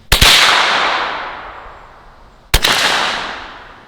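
A 12 gauge shotgun firing 9mm and .38 Special rounds lets off two loud, close, sharp shots about two and a half seconds apart, each followed by a long echoing decay.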